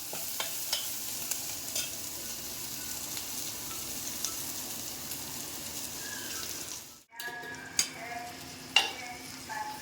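Bitter gourd with turmeric frying in a pan gives a quiet, continuous sizzle with light stirring taps, then a sudden brief break followed by sharper spoon clicks.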